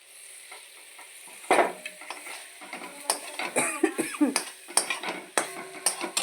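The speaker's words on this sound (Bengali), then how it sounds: "এবার একে একে ডিমগুলো দিয়ে দেবো" Eggs go one by one into a pan of sizzling onion-chilli masala for egg curry, followed by steady frying hiss, a clatter as they drop, and repeated spoon scrapes and clinks against the pan.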